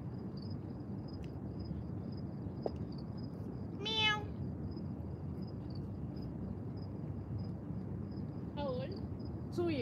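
A cat meows twice, short rising calls spaced several seconds apart, at an evening park over steady outdoor hiss and a faint high insect-like whine; people chat quietly around it.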